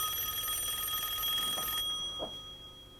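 A telephone rings indoors with a bright, sustained bell tone that holds steady for nearly two seconds, then stops and leaves faint room noise with a couple of soft thumps.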